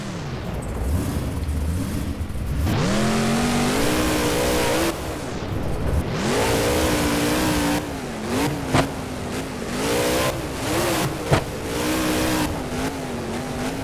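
A monster truck engine in the BeamNG driving game roars and revs through repeated climbs and drops in pitch, with brief cutouts and sharp thumps from landings, loud throughout.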